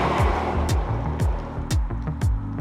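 A 2021 Kia K5 GT all-wheel drive car on the move, with a low engine drone and repeated rhythmic thumps and rising whooshes, close and fairly loud, no talking.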